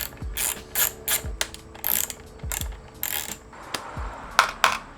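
Screws are loosened with a ratcheting tool on the tail fairing of an Aprilia RS660 motorcycle, close, repeated ratchet clicks in short irregular bursts with small metallic knocks between them, no voices.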